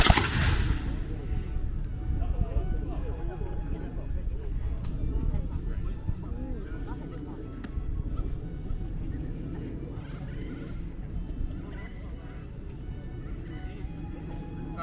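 Red coat soldiers at a heritage day demonstration fire their gunpowder muskets in one loud, abrupt blast at the start, followed by a rumbling, low-level outdoor ambience.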